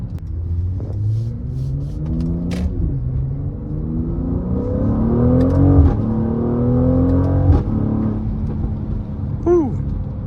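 A Mercedes-AMG GLC43 SUV accelerating hard through several gear shifts, its engine note rising and dropping in repeated sweeps, loud and close, with a few sharp pops during the run.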